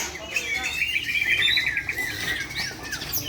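A white-rumped shama sings at a crowded songbird contest in Mamuju, a bright warbling phrase of rapid trills and chirps over a murmur of background crowd noise.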